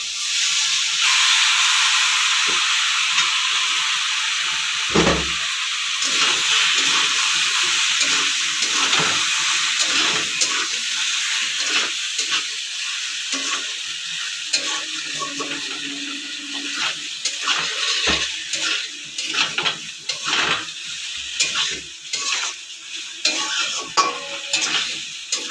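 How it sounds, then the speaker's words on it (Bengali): Boiled, drained macaroni pasta is stirred into melted tomato in a frying pan. A steady close sizzle is broken by a spatula scraping and stirring, with the strokes growing more frequent and rhythmic in the second half. There is no speech. "দেখুন পাস্তা দিয়ে সব ভালোভাবে মিশিয়ে নিয়েছি।"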